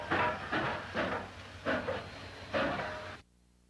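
Rhythmic chuffing of a steam locomotive, several strong hissing puffs at a steady pace, fairly close, ending abruptly in silence.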